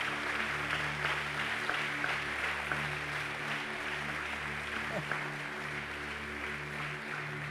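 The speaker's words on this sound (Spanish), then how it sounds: "Denle un fuerte pero fuerte aplauso a Jesucristo." Congregation applause at an annual church retreat service, a steady wash of clapping filling the room with a low background hum, continuous and moderately distant throughout.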